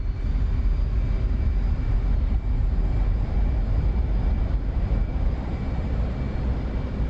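Jet aircraft taking off in the DCS World flight simulator, a loud, steady engine roar with heavy low rumble that holds constant throughout, with no talk over it.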